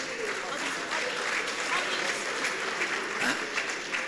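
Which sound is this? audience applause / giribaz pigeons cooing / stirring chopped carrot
audience applause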